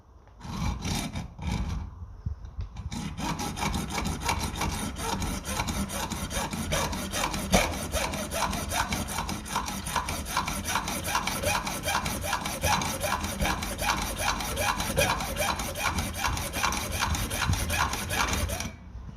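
A big hacksaw cuts through a metal part of a 1957 Ferguson FE35 TVO tractor carburettor, giving steady, close, rhythmic rasping strokes that run continuously after a few brief opening scrapes.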